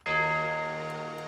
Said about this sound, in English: I added a Tubular Bell sample from Splice on every 4 bars on the hits